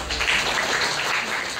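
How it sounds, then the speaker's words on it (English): An audience at a lecture on ASEAN regional governance applauds to welcome a speaker, a short burst of even, dense clapping. "So let us all welcome, no, with a round of applause, Professor Herman Joseph Kraft."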